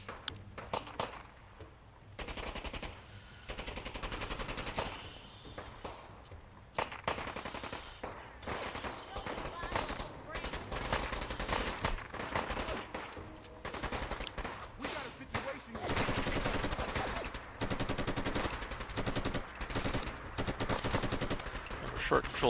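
Fallout gunfight in a Boston setting, with repeated short bursts of automatic gunfire separated by brief gaps, loud and close, broken by occasional quieter moments.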